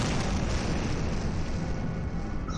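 A loud, sustained blast from a detonation in the video game Don't Escape 3, a dense roaring rumble that fills the whole stretch without letting up.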